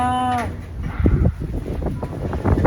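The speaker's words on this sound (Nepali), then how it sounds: "हावा चलेको हेर्नुहोस्।" Wind gusts in the hills of Darjeeling, buffeting the microphone in rough, uneven low rumbles after a brief voice at the very start.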